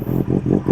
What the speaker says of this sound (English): This also has an amazing exhaust and I'll just open it for you guys.